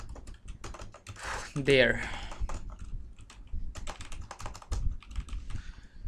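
Close keyboard typing while code is written into a browser-based JavaScript code editor, a steady run of quick clicking keystrokes with a short spoken word partway through.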